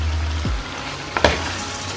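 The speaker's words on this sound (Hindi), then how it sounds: "बस इसमें मीट डालें और इसको भून लेंगे।" Lamb meat frying in a pot for yakhni pulao, a steady close sizzle with a brief louder crackle and stir partway through.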